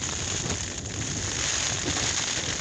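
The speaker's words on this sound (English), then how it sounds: "I've had this problem before with the rain coming in" Steady rain patters and drips against a tent close by, leaking in, a constant hiss with scattered drops and no talking.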